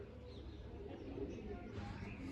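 Pigeons coo softly and low in the background, mixed with faint outdoor ambience and some distant voices.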